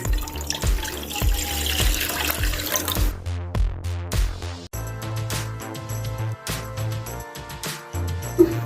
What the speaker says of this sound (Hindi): आलू बहारे की चटनी बनाने के लिए यहाँ पर मैं 2 कप पानी डालूंगी।